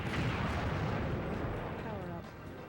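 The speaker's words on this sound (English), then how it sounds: "Kind of impressive that we can blow up gas stations" A gas station blowing up in the N64 tank game BattleTanx, a loud booming blast with rumbling debris that fades slightly toward the end, heard alongside game noise and someone talking.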